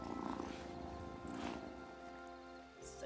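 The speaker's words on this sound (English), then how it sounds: "Oh, what a good purr." A cat in the video game Wylde Flowers purrs softly and close, a low rhythmic rumble with a faint tonal hum behind it and no voices.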